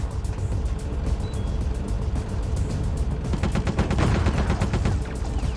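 A turret fires in the video game Metal Gear Solid: The Twin Snakes, with rapid, evenly spaced shots that come as a dense burst. The firing grows louder and more intense toward the end over a constant rumbling background.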